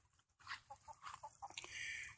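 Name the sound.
chickens clucking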